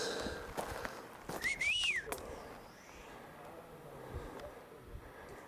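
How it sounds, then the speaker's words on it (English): A person in a freshly mulched garden gives a single short rising-and-falling whistle to reassure animals, faint and brief amid quiet outdoor ambience, footsteps and soft rustling. "I always whistle because it's a constant reassurance for them that I'm trying to talk to them."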